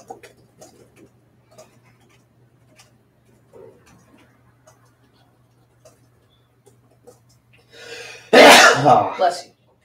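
A single loud, close sneeze near the end during an online writing session, after quiet, sparse sounds.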